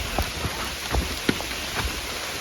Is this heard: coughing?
no